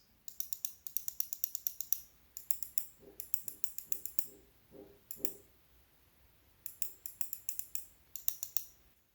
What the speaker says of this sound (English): Most of the buttons offer a more satisfying click to them, including the main buttons.